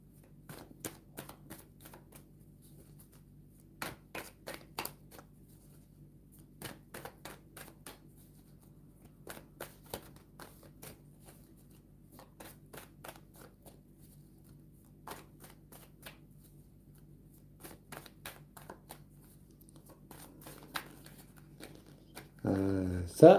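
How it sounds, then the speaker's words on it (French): Tarot cards are shuffled in short, riffling bursts repeated at irregular intervals, soft and close, with quiet pauses between them and a brief louder rustle at the very end. "je vais regarder les cartes avec le tarot"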